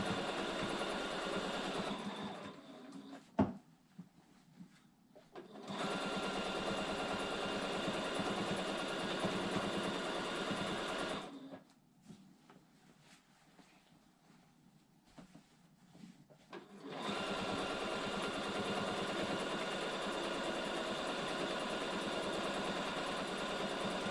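A sewing machine stitches a spray-basted quilt, its steady mechanical whir running in long bursts that stop twice for quiet pauses before resuming, close and clear with no talking.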